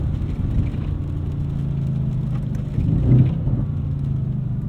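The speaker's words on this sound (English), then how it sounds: "Listen to the burbles on the downshift." A 2015 Mercedes-Benz AMG C63 S Edition 1 rumbles steadily from inside the cabin, and a brief swell of exhaust burble comes partway through as it downshifts. Nobody is talking.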